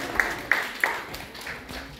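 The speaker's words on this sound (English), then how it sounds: "let's give a round of applause to our guest speaker" Applause from a dinner-dance audience welcoming a guest speaker at an induction ceremony, a few sharp nearby claps standing out early, then a softer wash of clapping that fades, with some voices underneath.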